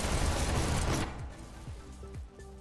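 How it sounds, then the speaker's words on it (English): Rapid automatic gunfire in a competitive VR esports shooter game, a dense loud burst for about a second that cuts off into quieter mechanical clicks and faint metallic rattles. "Let's move these cameras away so that we're not hearing all that gunfire."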